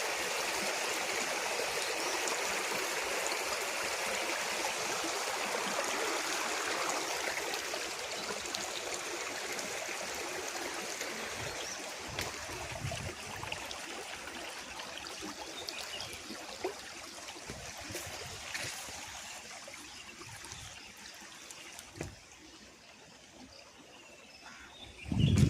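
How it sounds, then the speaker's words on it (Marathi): A forest stream flows through dense jungle near a forest department check dam, a steady broad rushing and trickling wash with faint birdsong, fading slightly toward the end before a sharp closing bump. "मराठी बाणाच्या इकडे हा ओढा वाहतो।"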